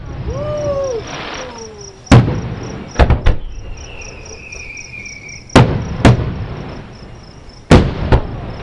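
Fourth of July fireworks burst in a series of sharp, loud bangs at uneven intervals, with a thin rising whistle between them and a faint voice at the start.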